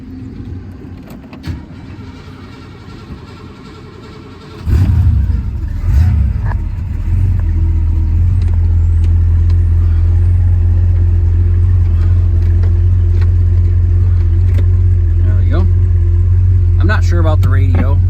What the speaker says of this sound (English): start her up for you here so you can hear her run.